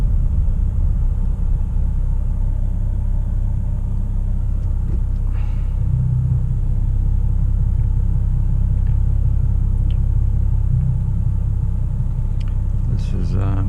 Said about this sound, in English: Yeah, and these are the streetcars I remember, these ones.